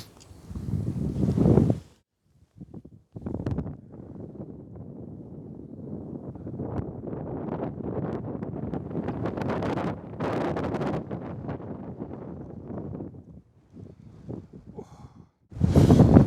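Wind gusting across orange and yellow reeds on a hillside near Rona and Raasay, a steady broad rushing that swells and eases over many seconds with buffeting against the microphone, loud and close, with brief bursts at the start and end.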